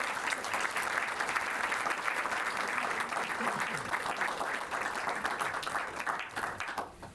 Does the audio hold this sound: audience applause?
yes